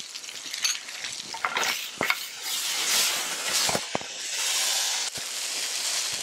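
Tomatoes sizzle and fry in a pan with turmeric and salt, giving a steady crackling hiss with occasional sharp clicks of stirring and utensil taps, close and fairly loud.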